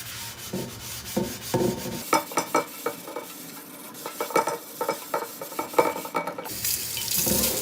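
A scrub pad rubs firmly over the cooking surface of a pan, in quick rhythmic rasping strokes with short pauses between bursts, close and moderately loud with no voices.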